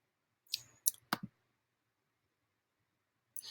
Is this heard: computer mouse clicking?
yes